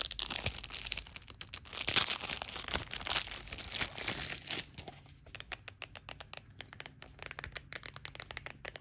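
Packaging for an X88 Pro 20 Android TV box is torn and unwrapped up close, with crinkling plastic and crackling paper in busy bursts that thin into sparser rustles and taps.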